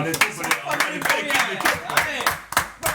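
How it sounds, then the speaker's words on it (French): Scattered audience clapping on a French television show, sharp individual claps in an uneven rhythm heard under lively speech. "on peut les applaudir encore"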